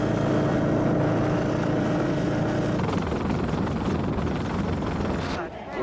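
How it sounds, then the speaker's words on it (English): A helicopter flies over a 1999 Taiwan earthquake zone, its rotor and engine a loud, steady drone that carries through most of the clip and fades near the end. "helicopters flew others out to other hospitals"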